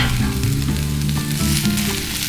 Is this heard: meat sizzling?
yes